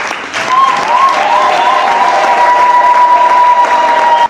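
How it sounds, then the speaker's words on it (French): Sustained applause from an audience in a hall during a Catholic gathering honoring the governor of Lualaba province, dense and steady throughout, with a faint whistle-like tone running through it. "nous demandons aussi d'applaudir pour elle"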